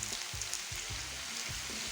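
Pumpkin and Malabar spinach, seasoned with sugar, salt and turmeric, fry in a pan with a soft, steady sizzle. Several spatula stirring strokes scrape through the sizzle at a fairly low level.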